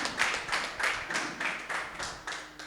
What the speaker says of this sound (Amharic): አጨብጭቡ ለጌታ